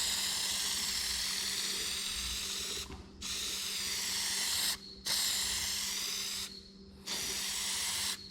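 A Sparex spray paint can fitted with its own Sparex nozzle hisses in four long continuous bursts, each cut by a brief pause, loud and close against a faint low hum.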